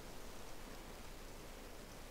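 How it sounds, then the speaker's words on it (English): Steady rain falls in the Minecraft video game, a soft, even wash of noise with no breaks or distinct drops, continuous and fairly quiet throughout. "It's now raining"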